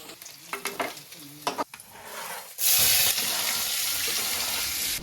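Paneer curry cooks in a pan, first some clatter and stirring knocks, then a loud, steady sizzle of frying that holds close and continuous.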